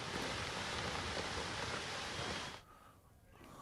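Heavy rain falling steadily in Jammu and Kashmir, a dense, loud wash of hiss that holds for a couple of seconds before cutting down to a quieter background.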